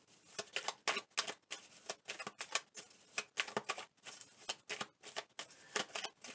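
Tarot-style message cards are shuffled and pulled from a deck in quick, rhythmic papery flicks and snaps, close and soft, with no talking.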